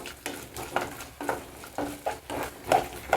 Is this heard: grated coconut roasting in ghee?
yes